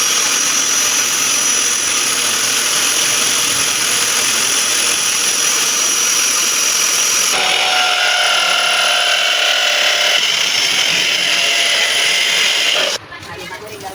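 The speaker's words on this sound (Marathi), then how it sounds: "ड्रिलने होल पाडण्याचं काम चालू आहे." Power drill boring holes into a wall to mount an electrical switchboard in a house, a loud continuous high-pitched whine that shifts pitch midway and cuts off abruptly near the end.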